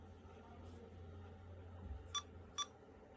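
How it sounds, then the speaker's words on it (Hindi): Lenovo ThinkCentre M700 desktop computer powering on and giving two short, sharp BIOS beeps about half a second apart over a quiet, low hum. "तो ऑन में ये 3 बीप्स देगा"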